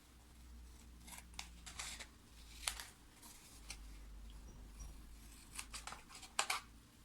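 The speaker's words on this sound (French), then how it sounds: "Ensuite, vous allez venir couper ici dans les angles." Scissors snip into the corners of a paper flap while making a pop-up scrapbook album page with a vintage nature theme, giving several short, close, quiet cuts spread across the stretch, with no talking.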